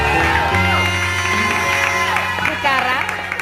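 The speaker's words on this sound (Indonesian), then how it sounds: "Tepuk tangan dulu dong untuk berita-berita kita" A studio audience on a gossip talk show applauds and cheers loudly, with music and voices layered over the crowd noise throughout.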